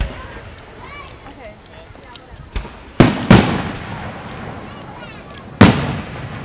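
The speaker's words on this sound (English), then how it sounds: "Nothing says happy birthday America like a few explosions in the sky." Fireworks burst in the sky at a 4th of July celebration, several sharp booms with echoing tails spaced a few seconds apart, while people chatter and shout nearby.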